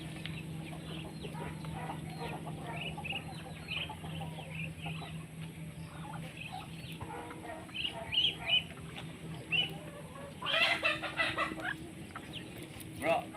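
Free-range Black Australorp chickens cluck on a farm, soft scattered calls through a steady background hum, growing a bit busier and louder toward the end, with people talking.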